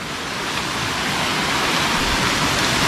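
Spring water at Malagaslas Spring in Laurel, Batangas rushes strongly, a dense, continuous roar of flowing water filling the scene at close range.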